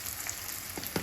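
Pohā seasonings frying in hot oil until crisp, a quiet steady sizzle with a few soft crackles near the end.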